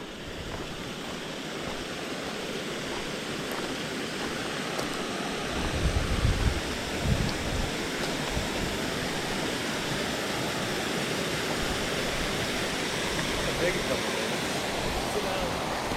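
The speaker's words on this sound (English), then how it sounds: "Made it to the waterfall." A waterfall on a backpacking trail at White Rock Mountain, Arkansas, produces a steady, full rushing roar that stays constant and fairly close throughout, with a brief louder swell partway through.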